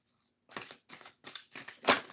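A deck of tarot cards being shuffled up close, heard as five quick papery riffling bursts with brief pauses between them, the last one loudest.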